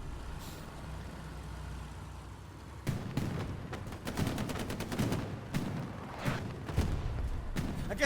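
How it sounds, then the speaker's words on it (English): Bursts of gunfire hammer a window in the online shooter Hell Let Loose, starting sparse and turning into dense, rapid volleys of close shots over a steady low rumble during a competitive match. "Why is everybody shooting this window?"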